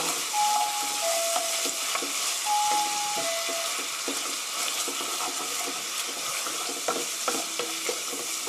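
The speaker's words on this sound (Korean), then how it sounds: "고추장이에요. 조금 넣고 볶아주세요." Gochujang hot pepper paste being stir-fried in a pan for chicken tteokbokki, a steady loud sizzle and frying hiss with scraping stir strokes running throughout, no voices.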